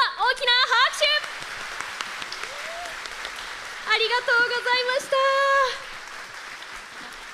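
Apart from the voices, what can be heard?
press conference audience applause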